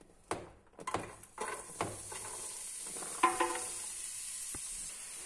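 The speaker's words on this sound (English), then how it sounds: "we're just going to fry it off with a bit of olive oil" Diced celery and other vegetables frying in olive oil in a pan over medium-high heat, a soft continuous sizzle beneath several sharp scrapes and clatters of stirring, close and quiet, with no talking.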